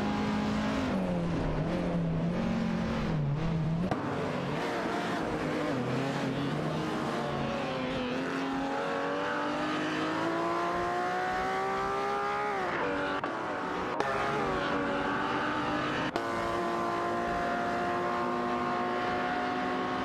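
Race car engines from an Alfa Romeo Giulia TZ and a Ferrari 250 GT Berlinetta wail in a racing game, revving up and down through gear changes, the pitch sliding continuously, loud and sustained with no voices.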